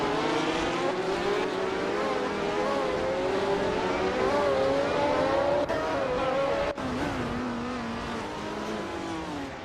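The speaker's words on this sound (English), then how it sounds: "Elias Esk is driving the Williams FW04, a car known for its innovative design back then" A Williams FW04 Formula racing car in a racing video game screams at full throttle, its engine note rising and falling through gear changes and corners, with a brief sharp break midway and the roar continuing steadily, no voices heard.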